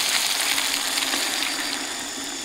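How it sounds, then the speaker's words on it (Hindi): Water poured into a cooking pot holding turmeric, tomato and salt at a rainy forest campsite, a steady loud rushing hiss that carries without a break for a couple of seconds. "और अभी इसके अंदर डाल देते हैं पानी।"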